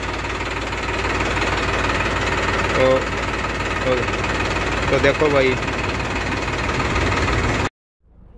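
A New Holland tractor fitted with a dozer blade idles nearby with a steady, rough, knocking engine rumble, while someone talks over it before it cuts out at the end.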